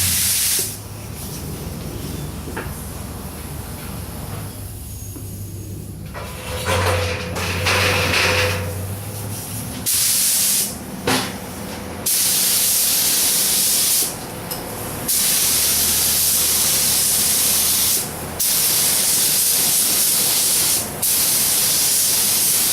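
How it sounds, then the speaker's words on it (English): Spray gun laying down a wet coat of paint on a Ford part, a loud, steady hiss in long passes broken by short pauses, with lower compressor-like rumble in the early stretch. "we're gonna throw a couple coats down on this. And I usually just go with the wet coat right off the bat"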